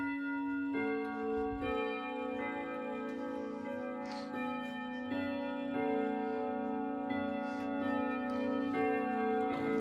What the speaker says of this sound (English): I'm going to show you the chimes